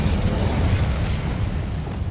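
An Incendio fire spell bursts in Hogwarts Legacy, a dense, loud crackling whoosh of flame with heavy low rumble that holds steadily for about two seconds, no voices.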